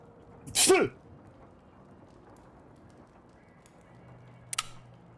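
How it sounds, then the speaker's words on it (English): One loud, sharp sneeze bursts out near the start, followed by quiet room tone and a brief high squeak near the end. "he sneezes"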